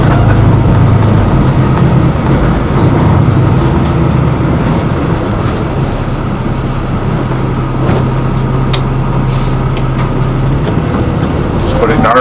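A large custom Super C motorhome turning through a wide U-turn, its engine a steady low rumble with road and cabin noise throughout, while people talk quietly inside.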